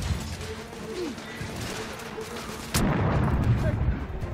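A detonator explosion in The Order: 1886 lands as one sudden heavy blast partway through, then a loud rumbling roar that keeps going. Quieter game noise comes before it.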